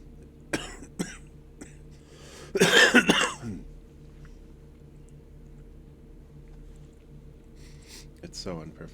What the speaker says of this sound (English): Coughing up a lung like that.